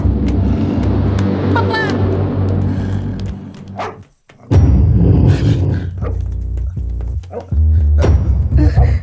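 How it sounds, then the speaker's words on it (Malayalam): A dog barks and yelps near a house with children around, with short sharp barks and whimpers amid background noise and a brief quiet gap in the middle. "അർജുന പട്ടിയെ പിടിക്ക്."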